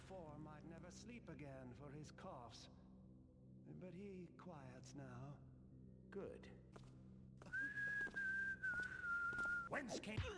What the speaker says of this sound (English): The whistling of these guards turns out to be really helpful when finding out where these guards are